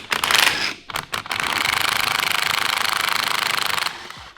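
An impact wrench fitted with a 5mm Allen socket hammers a strut nut on a 2016 Subaru WRX, starting with short bursts and then running in a long, loud, close, rapid rattling stretch before it stops, with no talking.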